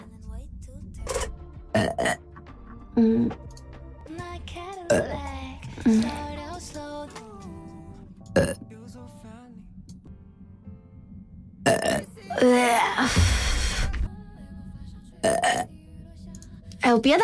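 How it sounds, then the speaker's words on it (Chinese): Loud, close burps recur through a long stretch, mixed with laughter and a young-sounding voice talking between them, from a streamer in a burp compilation. "哎呦，别打嗝了"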